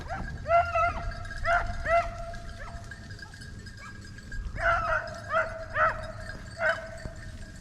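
A pack of rabbit-hunting dogs bays and yips through thick brush, sharp clustered barks from several animals coming in bursts at medium distance over a low rumbling background.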